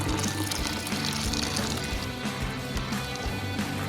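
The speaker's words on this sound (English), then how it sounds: "I'm going to try and pour that." Hot wort pouring steadily from a jug into a mash kettle during beer brewing, a continuous close splashing gush lasting a few seconds.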